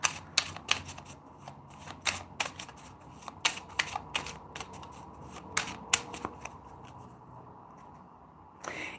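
Oracle cards being shuffled by hand during a tarot-style reading, a quick run of crisp papery riffles and soft slaps close to the mic, irregular bursts spread across the stretch with no talk over them.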